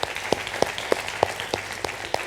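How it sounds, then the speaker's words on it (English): Workshop participants in a public speaking class clap in a steady, evenly spaced rhythm of distinct sharp claps, moderately loud and close, with no talking over it. "Give yourselves a round of applause, everybody."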